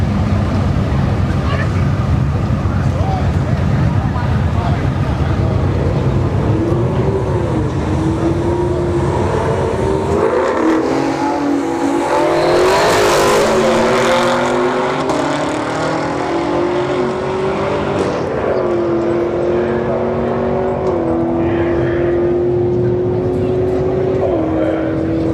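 A Chevrolet Camaro SS and an Audi at a street drag racing event at Bradenton Motorsports Park, a steady loud engine roar with a rising revving tone as the cars run, with people talking beneath the noise.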